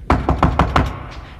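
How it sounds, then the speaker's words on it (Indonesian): Five quick, sharp knocks on an apartment door at night, loud and close, evenly spaced in a brisk rhythm, followed by a short fading tail. "Julia dikagetkan oleh seseorang yang mengetuk pintu apartemennya."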